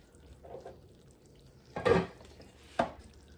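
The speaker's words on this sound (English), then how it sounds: "Now I'm just trying to get the chicken thighs out" Chicken thighs being lifted out of a crockpot after four hours on low: a soft scrape, then two sharp clanks of a utensil against the ceramic pot, close and otherwise quiet.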